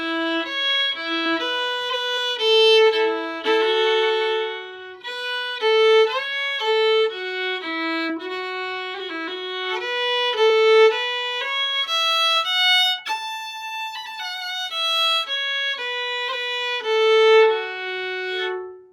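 The Irish slip jig Soggy's is played on fiddle, a lively lilting melody of quick bowed notes in flowing triple-time phrases, played solo and close with no talking.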